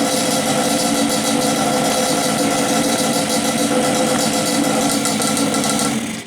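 A Yamaha Banshee ATV engine idling while its carburetors are checked, a loud, close, steady rumble with an even mechanical vibration, holding constant without revving.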